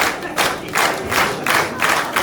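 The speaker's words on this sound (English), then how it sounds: "Things you will only hear at an independent wrestling show is a crowd chanting semi-skimmed" An independent wrestling show crowd chants "semi-skimmed" in loud, rhythmic, repeated bursts that echo through the venue.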